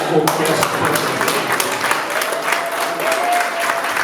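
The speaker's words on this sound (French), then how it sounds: "Est-ce qu'on peut applaudir très fort pour la chorale?" Sustained applause for a choir from a large church audience, dense clapping filling the whole stretch, with a voice briefly audible over it.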